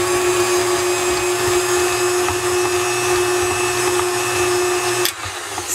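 An electric mixer whirs steadily through cookie dough, a constant high hum with faint grinding texture, running alone until it cuts off abruptly near the end.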